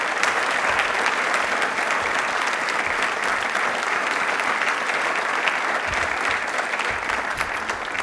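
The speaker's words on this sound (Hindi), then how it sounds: "तालियां एक बार जोरों से हिंदुस्तान के लिए बजा दीजिए" A studio audience at a quiz show applauds vigorously for India, a dense, even wash of clapping that holds steady for the full eight seconds.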